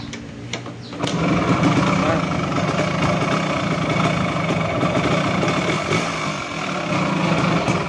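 Suzuki RS100 two-stroke motorcycle engine, noted as running noisily before an overhaul, started up and held at a steady, busy running note close by after a brief lead-in.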